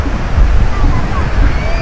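Sea waves roll in at Praia Formosa beach in Cabedelo, a steady close wash of surf roaring continuously with wind buffeting the microphone.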